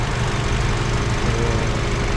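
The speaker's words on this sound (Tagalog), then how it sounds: "Ito mga master, ang ating makina, kalmado na." A Toyota Camry with the A25A-FKS engine, from a Dubai taxi fleet damaged by flooding, idles at close range with a steady, even hum and no talk over it.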